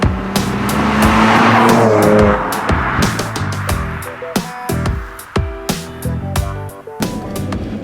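A 2014 Audi S4 Quattro lapping a racetrack: loud engine revving and rising through gears, brief tire squeal in corners and sharp shift gaps, heard close and continuous.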